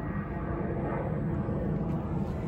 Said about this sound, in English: Where is that damn plane?